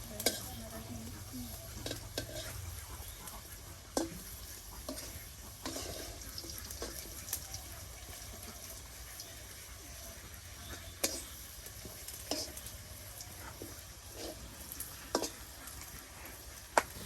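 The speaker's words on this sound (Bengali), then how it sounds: "এই দেখুন আলুর চপ বা আলু ভাজি যেটাই বলেন একদম ভাজা ভাজা হয়ে গেছে প্রত্যেকটা আলু।" Potato pieces frying in a pan over a clay stove, a steady soft sizzle with scattered clinks and scrapes of stirring, no talk.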